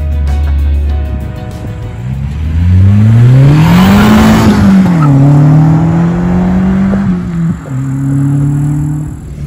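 A Ferrari 488 Pista sports car accelerates hard near Cortina, its engine note climbing through the gears, easing off and rising again, loud and close with almost no talk.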